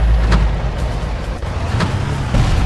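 A vehicle engine from the Far Cry video game, driven through swamp terrain, drones with a continuous low growl and small surges, and no talk over it.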